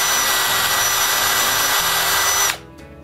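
A power drill bores holes for the buttons and nose of a handmade wooden snowman, a loud steady whine that holds for about two and a half seconds before cutting off abruptly.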